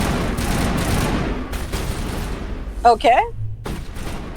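Mass Effect 1 guns firing in a sci-fi video game, a dense burst of rapid shots and booms up front that then thins into scattered reports, with a voice speaking briefly over the tail.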